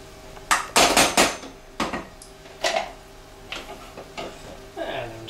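Spring onions and coriander being stirred into a pan with salmon, heard as a run of sharp clanks and scrapes of a utensil against the pan, loud and close with short pauses.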